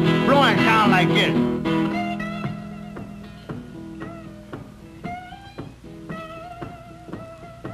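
A Chicago blues harmonica imitates a train: a voice-like wail opens, then a run of short, sharp tonal blasts and chugging notes rises and falls at moderate loudness, with no talking.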